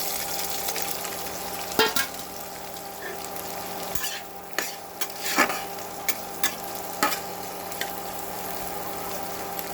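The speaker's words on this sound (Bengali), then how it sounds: "তেলটা গরম হয়ে গেছে, এবার আমরা পেঁয়াজটা দিয়ে দিলাম," Raw onion fries in hot oil in a wok with a steady sizzle, broken by several sharp spatula scrapes and clinks as it is stirred.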